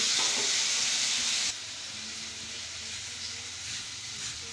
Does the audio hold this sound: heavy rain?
no